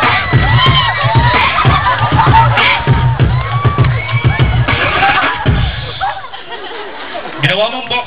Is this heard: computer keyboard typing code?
no